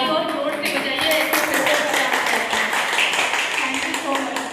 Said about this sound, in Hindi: ताली और जोर से बजाइए।